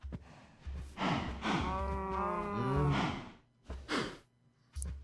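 A fluid cow in the Sky Factory Minecraft modpack moos in a long, wavering low call, bracketed by shorter snorting bursts, close and alone.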